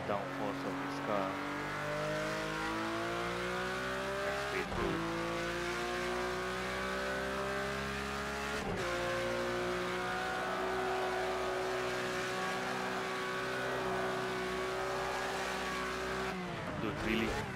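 Porsche 911 GT3 RS racing in Project CARS 2, its engine revving up through the gears in repeated rising sweeps with brief breaks at shifts, and someone talking over the game sound.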